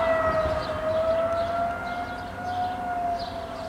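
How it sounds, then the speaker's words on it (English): A tornado warning siren in the style of an old Cold War air raid siren gives a steady, far-off wailing tone that holds and wavers gently throughout. "tornado sirens sound a bit like a air raid warning siren"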